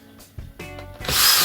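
A power drill drives 1.5-inch screws into wood to fix a frame for a loft ladder. It gives short, close bursts, with light knocks between them, then a sustained loud whir.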